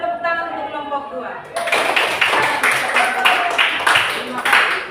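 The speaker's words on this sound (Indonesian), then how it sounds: "kita beri tepuk tangan untuk kelompok 2" Classroom applause for student group 2 breaks out after a moment of speech, a dense burst of many hands clapping in fairly quick, slightly uneven rhythm, close and lively, with voices mixed in.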